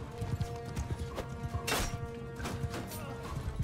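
Horse hooves clip-clopping at a gallop in the video game Mount & Blade II: Bannerlord, a fast rhythmic drumming with thuds and a sharp crash partway through.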